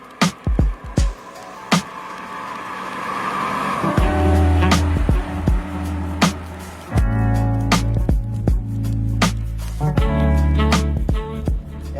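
A 1999 Mercedes-Benz CLK, W208 body in Elegance trim with a 4.3-litre V8, gives a deep, steady engine rumble close by, with sharp clicks and knocks scattered throughout and a quieter stretch before the engine note rises.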